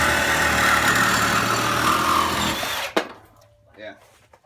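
A Milwaukee Fuel reciprocating saw cuts hard for nearly three seconds with a loud, dense buzz, then stops sharply, leaving quiet with faint voices.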